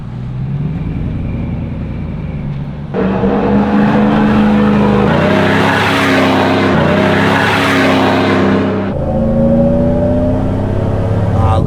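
Supercharged 2009 Chevrolet Silverado shop truck engine, starting at a steady idle, then rising into a loud rev and deep rumble with throttle blips before settling back near idle; no talk.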